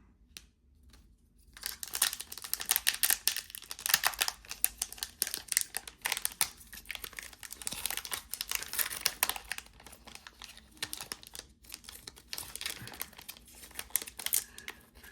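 A Final Fantasy collector booster pack's thick plastic wrapper is torn open, a close, steady run of crinkling and tearing plastic that starts after a brief quiet moment and continues unbroken.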